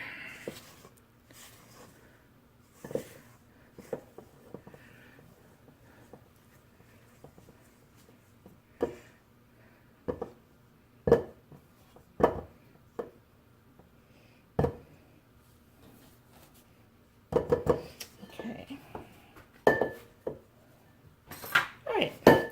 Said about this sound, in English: let me just give this a little bit of a mix